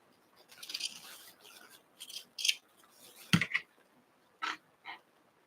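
Scissors cutting through two layers of quilting fabric into strips, a series of crisp close snips and rustles separated by short pauses, with one sharp clack in the middle.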